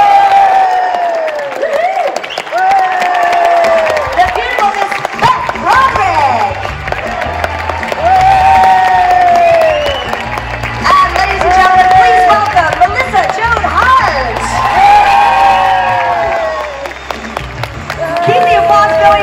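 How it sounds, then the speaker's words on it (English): Convention crowd at a comic con applauding and cheering for guests on stage, with sustained clapping and whoops, while an amplified host's voice talks over it throughout. "applause going for our wonderful ladies here"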